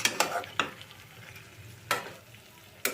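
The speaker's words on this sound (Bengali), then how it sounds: "আমি হাই ফ্লেমে এখানে মাংসটাকে ভালো করে কষিয়ে নেব" Chicken sautéing in a pan over a high flame, stirred with a spatula: a few sharp scraping strokes stand out over a low, steady sizzle, close and moderately quiet.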